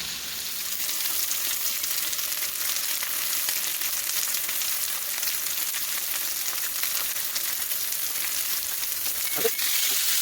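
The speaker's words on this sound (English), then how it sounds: "place this in. And I'm going to sear this 2 minutes on each side." A ribeye steak sears in a hot skillet with a loud, continuous close-up sizzle and crackle that holds steady throughout, with a brief clunk near the end.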